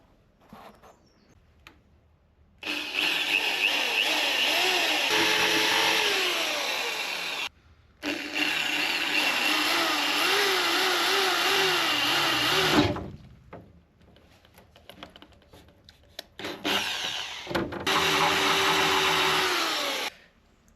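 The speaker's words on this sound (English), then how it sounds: "so let's get drilling." A power drill whines loudly in several long bursts while drilling holes in a polycarbonate window, separated by short pauses of quiet.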